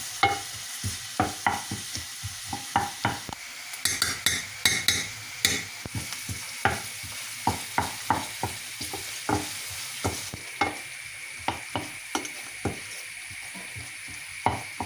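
Onions fry in a pan and are stirred in a steady rhythm of close, regular spatula scrapes over a continuous loud sizzle, with no talk.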